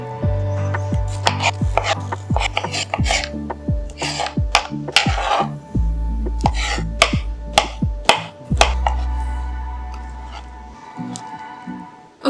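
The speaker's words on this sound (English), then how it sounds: "let's cut up the tofu, avocado, and tomato" Knife cutting tofu, avocado and tomato on a board for a vegan quinoa breakfast, with a steady run of close, quick chopping taps that slow toward the end.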